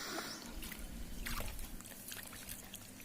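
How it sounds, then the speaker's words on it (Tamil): Water poured from a jug onto a newly planted rose plant in garden soil, a steady trickling splash over about three seconds, close and fairly quiet, with no talk. "இப்போ நம்ம கடைசியாக நம்ம தண்ணி ஊற்றிடலாம்."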